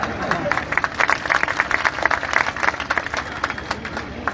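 Crowd clapping at an outdoor political rally in Baldevgarh, Tikamgarh, Madhya Pradesh, a steady patter of many hands at moderate loudness, layered over a continuous murmur of the gathered audience.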